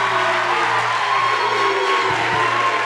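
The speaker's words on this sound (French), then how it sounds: "Acclamez pour lui." A church congregation cheers and acclaims a speaker with loud, sustained collective shouting and whooping. The sound stays steady and dense throughout, with no single voice standing out.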